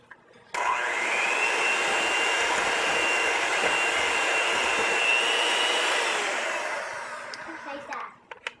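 An electric mixer creams sugar for banana bread batter with a loud, steady motor whir that runs for about seven seconds before winding down and stopping.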